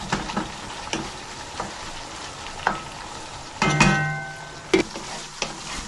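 Chicken thighs and jasmine spinach rice cooking down in a pan, a soft sizzle broken by several sharp stirring scrapes and clinks, close and moderately loud with no voices.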